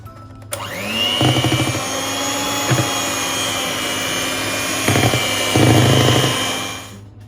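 An electric mixer whirs on a slow speed through chocolate cake batter, its motor spinning up and holding a steady whine with a few brief, louder bursts.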